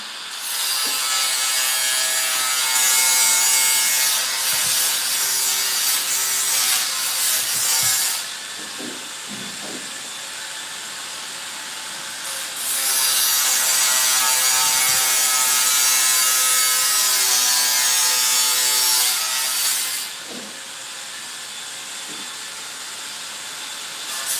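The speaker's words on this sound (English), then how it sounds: "I'm gonna wait till they're done cutting before I talk." Wood is sawed in two long, loud, close bursts of rasping strokes, each lasting several seconds and separated by a quieter pause with faint knocks, with no talking.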